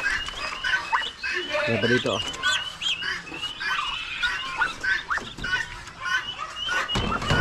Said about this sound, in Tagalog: Ito po, bagong sisiw. May mga manok pa dun sa likod